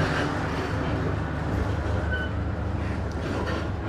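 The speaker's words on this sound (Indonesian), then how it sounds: "Nah, itu ada kereta di situ, sudah nunggu di jalur 1 Nagrek ya." A train stands waiting at platform 1 of Nagreg station in Indonesia, giving off a steady, loud rumble and hum with a faint high squeal partway through.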